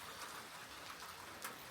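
Rain falls outdoors at a petrified forest in Escalante, Utah, a faint, soft steady patter heard from a distance with no voices.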